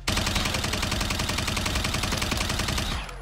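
Rapid, continuous burst of energetic zapping shots from a Gundam's beam rifle in the video game Warzone, loud and rhythmic, cutting off near the end.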